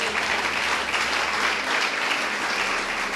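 Sustained applause from a large audience, dense and steady for the whole stretch.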